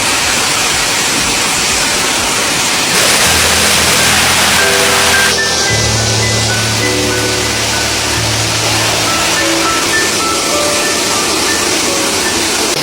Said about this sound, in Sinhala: ඔතේ ඇල්ල.